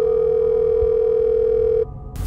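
A telephone dial tone sounds as a single loud, steady pure tone for nearly two seconds, then stops abruptly, leaving a faint low hum.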